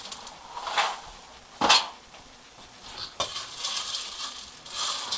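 Batter for a cereal lemon cake is stirred in a bowl, giving soft scraping swishes and a couple of sharper spoon knocks against the side, close and fairly quiet, with no talking.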